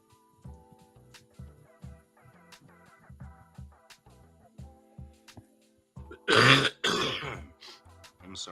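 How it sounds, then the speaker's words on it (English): After a stretch of soft background music, a person coughs twice in quick, loud bursts close by, then the quiet music continues. "I'm sorry for the cough, guys."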